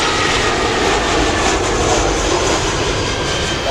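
A Swiss Airbus A320-200 on landing at London Heathrow Airport makes a loud, continuous, broad jet roar that holds steady throughout, close and unbroken, with no talking.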